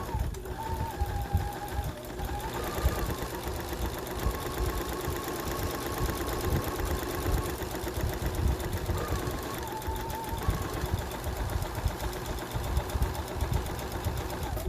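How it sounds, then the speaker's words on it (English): A sewing machine stitches a straight seam on fabric for a face mask, a steady fast mechanical whirring and clatter that runs without pause for about fifteen seconds, close and fairly loud. "you're just going to sew a straight seam"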